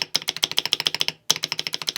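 Rapid typing on a mechanical keyboard with lubed switches and a slightly hollow, resonant case, crisp clacks in quick rhythmic bursts with a brief pause, close and clear with no talking.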